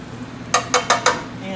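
Food flipped in a hot pan during home cooking: four quick soft scraping flips in a row over a steady low sizzle, close and alone.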